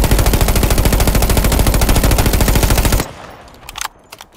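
Light machine gun firing in a first-person shooter game, a loud rapid sustained burst of closely spaced shots lasting about three seconds, then cutting off to quieter scattered game sounds.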